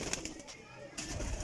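Breeder pigeons coo in short soft bursts, close by in a loft or pen, with a brief lull midway and some background murmur.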